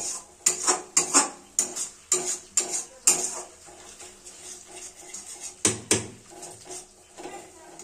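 Masala is stirred and fried in a pan with a spatula, sharp clinks and scrapes against the metal in an uneven rhythm over a soft sizzle, close by and without talk.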